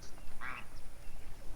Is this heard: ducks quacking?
yes